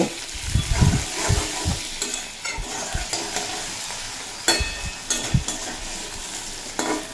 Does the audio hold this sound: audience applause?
no